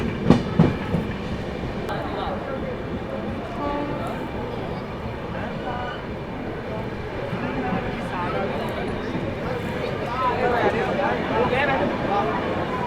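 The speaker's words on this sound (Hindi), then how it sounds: "ट्रेन अपनी जो है अलीगढ़ अराइव कर रही है" A train pulling into Aligarh station on the Rewa–Anand Vihar line, with a steady rumble of rolling wagons and faint clicking, a few sharp knocks near the start, and crowd chatter and voices throughout.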